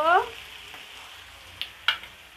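Chili and turmeric powders fry in hot oil in a pan, a faint steady sizzle with a short spoken phrase at the start and two sharp stirring scrapes near the end.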